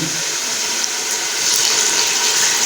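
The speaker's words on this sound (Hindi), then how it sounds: "तो अभी हम स्टेज पे आके इसमें पानी ऐड करेंगे" Water is poured into a pot of fried potatoes while cooking aloo pulao, a steady, loud rushing stream that continues without a break.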